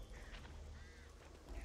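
Ducklike quacking birds in the co-op zombie shooter Back 4 Blood, a few brief nasal calls rising over a low rumbling game ambience, fairly faint and without talk.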